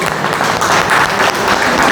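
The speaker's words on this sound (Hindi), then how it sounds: "चलिए ताली एक बार बजा दीजिए इस कपल के लिए।" Loud, dense applause from a crowd at a gathering in Bodh Gaya, Bihar, clapping for a couple, a continuous close roar of many hands with no talking.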